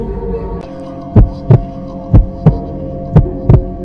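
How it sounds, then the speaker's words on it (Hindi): Heartbeat sound effect for a horror podcast: six deep, booming thumps, some in close pairs, over a low ominous hum, with no voice. "धीरे धीरे उसका दिल तेजी से धड़कने लगा।"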